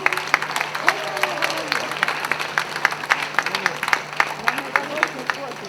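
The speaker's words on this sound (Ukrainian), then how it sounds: "ви вже починаєте її зустрічати бурхливими аплодисментами" An audience at the 2017 Rutenia festival poetry event welcomes a young performer with scattered, sharp claps that rise and fall unevenly while a voice keeps talking over them.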